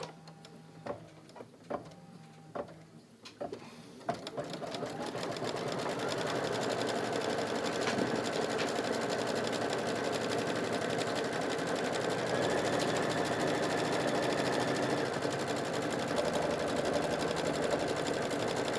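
An embroidery machine threaded with green thread sews a placement stitch: a few sharp clicks and taps first, then a steady, rapid mechanical chattering hum that runs on evenly at moderate loudness.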